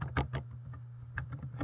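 Keystrokes on a computer keyboard while a database query is entered for an Oracle resource manager exercise, a short burst of close, crisp clicks in uneven clusters over a low steady hum.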